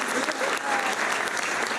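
A school board meeting audience applauds a scholarship recipient with steady, dense clapping that fills the room for the full couple of seconds, with no pauses.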